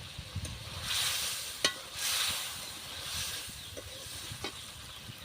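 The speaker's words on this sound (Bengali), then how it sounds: "ওর মধ্যে দিয়ে দিচ্ছি মাছগুলো, পরিমাণ মতো নুন" Fish goes into sizzling masala in a pan, giving a quiet steady frying hiss that swells in soft waves with a few sharp clinks and scrapes, close by, with no talking.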